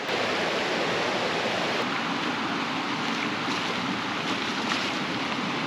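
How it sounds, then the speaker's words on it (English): River rapids in Patapsco Valley, just downstream of the main McKeldin Rapids, giving a steady, dense rushing roar of churning water that holds constant and close with no pauses throughout. "these rapids are just down from the main rapids"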